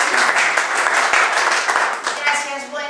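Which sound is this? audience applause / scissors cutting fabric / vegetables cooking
audience applause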